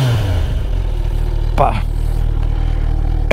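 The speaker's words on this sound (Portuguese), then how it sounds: "Vamos ouvir a sonoridade?" A Kawasaki Ninja 1000SX sport motorcycle idling loudly up close with a deep steady rumble, broken by two quick throttle blips, while someone speaks briefly.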